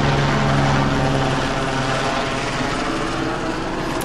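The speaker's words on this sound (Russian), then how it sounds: "О, вертолетище." A helicopter passes over a Korean village, its loud, steady rotor throb and engine roar dominating throughout and easing slightly toward the end.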